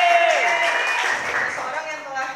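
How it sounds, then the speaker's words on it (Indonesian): An audience at a Training of Trainers session in Depok claps in a brief burst of applause, with a voice carrying over it as the clapping thins toward the end. "Oke, tepuk tangan Kak Becky."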